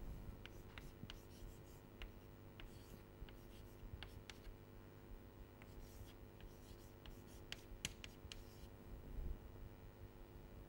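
A lecturer writing equations on a board during a lecture, with sharp, repeated tapping and scratching strokes in an irregular rhythm over a steady low background hum.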